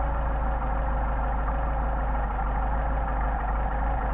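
A Mercedes 190SL engine runs steadily with Solex carburetors under adjustment, a close, continuous low idle with a faint uneven chug and no voices.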